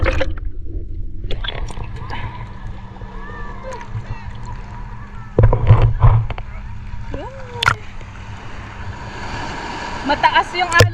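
Big waves roll and wash continuously along Shek O Beach in Hong Kong, a steady broadband surge with a few louder crashes, while nearby people chat over the water.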